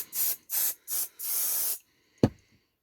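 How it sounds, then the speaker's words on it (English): Four short hissing bursts of spray from a can onto fabric hexagons on a board, the last one longer, close and clear, followed by a single soft tap. "and give it a spray"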